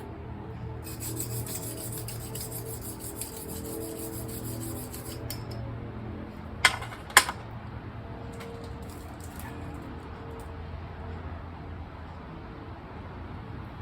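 A knife edge being worked over a sharpening stone during a full edge repair, including narrow half-inch stones reaching into specific areas of the blade: a steady, close abrasive rasping with a couple of sharp clicks midway and no talk.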